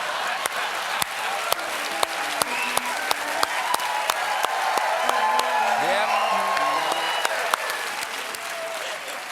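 A large audience at the State of the Union speech applauds steadily, a dense sustained clapping with a few whoops, while a voice carries on over it.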